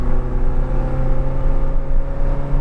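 A classic MKI Austin Mini Cooper accelerates hard, its engine note loud, close and steady as it pulls up through the gears with a continuous buzzing drone.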